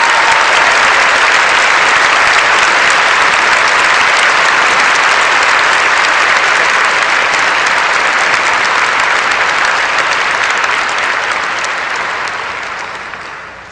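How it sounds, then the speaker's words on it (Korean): Sustained, loud applause from a large audience fills a hall during the 2014 Fields Medal award ceremony in Seoul. The dense clapping holds steady before fading slightly at the end. "마리암 미르자키니 박사님의 도전과 열정에 큰 박수를 보냅니다"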